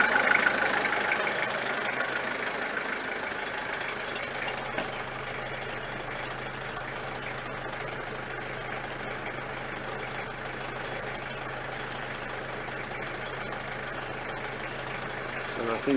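A rebuilt diesel engine idles steadily at close range, a continuous low rumble with a faint knocking texture that holds even throughout.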